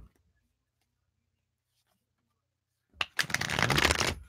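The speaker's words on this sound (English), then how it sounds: "I'm going to shuffle up for you." Tarot cards being shuffled by hand: after about three seconds of near silence, a loud, close burst of riffling and rapid flicking paper slaps fills the last second and a half, with no talking.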